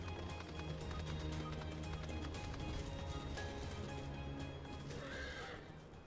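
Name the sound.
horse neighing in Final Fantasy XIV video game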